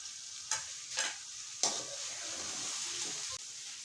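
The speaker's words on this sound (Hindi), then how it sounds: "इसको अच्छे तरीके से हम चिकन की बुनाई करेंगे" Chicken being stirred and fried in a pan for white chicken pulao, with three sharp scraping stirs early on and a steady sizzle filling the rest, ending in a brief clatter.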